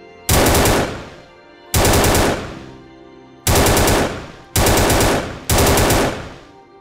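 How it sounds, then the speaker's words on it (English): Gunfire in burst mode from a Unity first-person shooter game: five loud, sharp bursts of rapid shots, each a dense rattling volley that cuts off abruptly and decays with an echoing tail, separated by short silent gaps. "As you can see, he is shooting 5 times, so burst mode."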